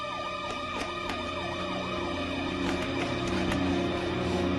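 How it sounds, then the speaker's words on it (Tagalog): A police siren from a Filipino movie scene wails in steady rising and falling sweeps, loud and continuous over a dense layer of traffic-like noise, with no voices. "Tara na, Mang Carlos, nandiyan yung mga pulis"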